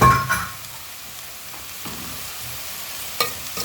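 Omena, small dried fish, fry with pilipili hoho bell peppers in a hot pan, with a loud stirring scrape at the start and then a steady soft sizzle broken by a few clinks of the utensil.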